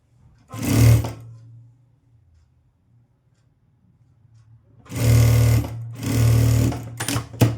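A sewing machine stitches a blouse in short bursts: one run, a long pause, then two longer runs back to back and a few quick final stitches. The whirring is loud and close, with no talk.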